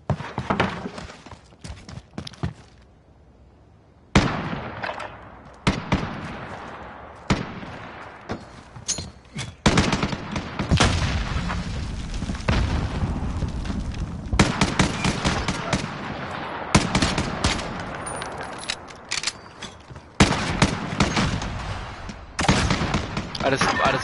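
Bursts of gunfire from a PS4 online shooter, sharp shots and rapid volleys going off repeatedly throughout, with players talking over the action.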